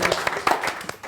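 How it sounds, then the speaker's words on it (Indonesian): A studio audience at a talk show interview with Indonesia's sports minister gives a short burst of clapping, brief scattered hand claps lasting about a second. "Tepuk tangan lagi."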